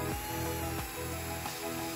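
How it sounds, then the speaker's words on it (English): A power drill boring a 1/4 inch weep hole in the bottom cap of a gate post, a steady close whine with a couple of brief pitch dips as the bit bites, alone without speech. "Drill a 1/4 inch weeping hole in the bottom cap."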